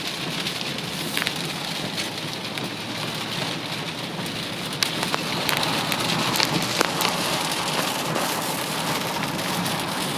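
Steady heavy rain pours down on surfaces in a storm, a dense continuous hiss with scattered louder drops and splashes, swelling slightly in intensity partway through, with no voices.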